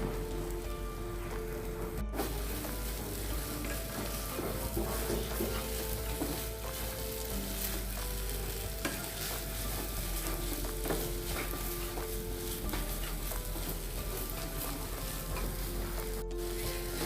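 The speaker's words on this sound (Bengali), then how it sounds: "ডিমটাকে আমি ভালোভাবে নেড়ে মশলার সাথে কষায় নিচ্ছি" Fish roe frying with spices in a pan and stirred steadily, a dense continuous sizzle with scraping stir strokes running throughout at close range.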